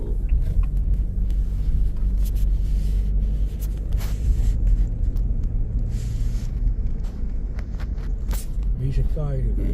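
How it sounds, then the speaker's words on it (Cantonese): Steady low rumble of cars moving along a busy street at night in Koktokay, Xinjiang, a continuous traffic drone with passing swells and a voice talking over it. "周圍仲好多車"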